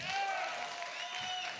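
A live comedy-show audience applauds in a steady, dense wash of clapping that lasts the whole short stretch, close and fairly loud.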